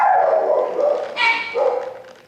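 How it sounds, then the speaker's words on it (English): An adoptable shelter dog in Clackamas County barks for treats in drawn-out, whiny woofs and yips, loud and close, with a person's voice mixed in. "his bark's not aggressive. It's just telling me out he wants his cookies"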